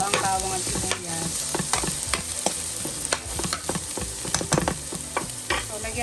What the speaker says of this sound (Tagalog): Halo-haluin natin hanggat maluto ang bawang at sibuyas.